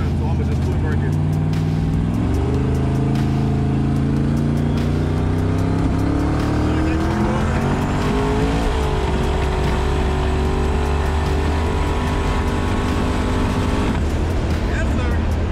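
Twin-turbo Cutlass accelerating hard under boost, a loud rising engine note climbing through the gears with a shift around midway, heard from inside the car with talk over it.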